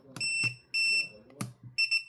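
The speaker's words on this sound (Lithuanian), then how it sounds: "Vėl 2 pyptelėjimai reiškia, kad priimtas signalas." A BFT universal receiver gives a series of high electronic beeps, some short and some held longer, clear and close in a quiet room.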